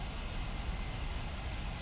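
Continuous broadband roar of an A-10 jet aircraft flying in a video game, a steady close engine drone with no talk over it.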